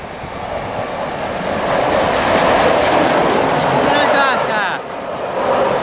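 Steam locomotive 60009 Union of South Africa, running as 5Z29, passes through Swindon station in Wiltshire with a loud, sustained rumble and rolling wheel noise, a brief squeal rising near the end, and people talking nearby.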